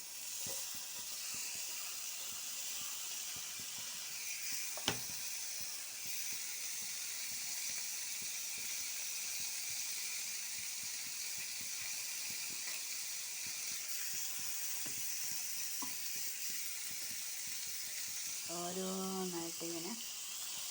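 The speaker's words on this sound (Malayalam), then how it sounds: "ഇനി ഇതിനെ പൊരിക്കാം." Fish pieces marinated only with chilli, turmeric and salt fry in hot oil, producing a soft continuous hiss throughout, with a sharp click midway and a brief tonal sound near the end.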